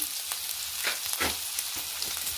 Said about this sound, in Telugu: ఉల్లిపాయలు కట్ చేసుకుని చూడండి ఇలా మంచిగా ఫ్రై చేసుకోవాలి